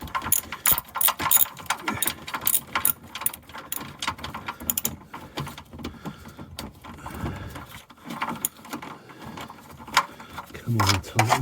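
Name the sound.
ratchet tightening a nut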